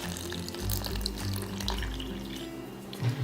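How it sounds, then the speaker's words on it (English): Water poured from a cup into a bowl of flour and salt while making homemade slime, a close, steady trickling and splashing that runs for about three seconds. "So I have my 1 cup of water and I'm just going to pour that in."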